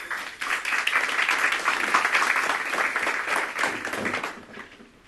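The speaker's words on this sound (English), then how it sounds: "so let's give him applause, please." Audience applause at a broadband presentation, a soft, even wash of many hands clapping that swells quickly, holds steady, then fades out toward the end.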